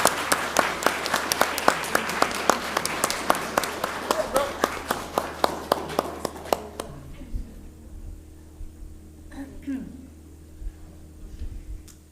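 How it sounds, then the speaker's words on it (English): Audience at a school board meeting applauding staff, a loud, fairly rhythmic round of many hands clapping that fades out midway, leaving room hum and faint voices talking. "let's give them a round of applause"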